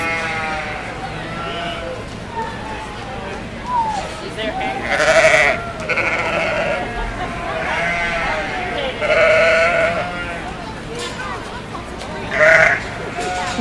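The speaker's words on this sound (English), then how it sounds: "Now we have our pair of yearling ewes happening." Yearling ewes bleat at a sheep show. Several loud, wavering bleats come close by at intervals over a busy indoor background of murmuring voices and livestock noise.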